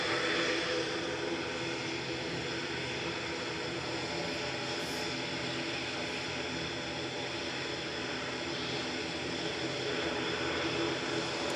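A DHL Airbus A300 passes overhead near Manchester Airport under cloudy skies, a steady, broad jet roar that holds evenly throughout without clear rise or fade.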